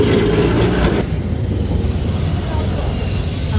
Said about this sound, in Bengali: সামনেই বেশ ট্রাম চলছে